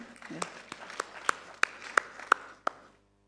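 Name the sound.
audience applause for Indomaret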